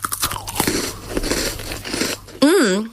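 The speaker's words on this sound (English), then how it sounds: "Is the right amount of crunch and OMG so much chocolate." Someone biting into a crunchy chocolate snack, with several crisp, close crunches and chewing sounds, followed by a rising vocal exclamation.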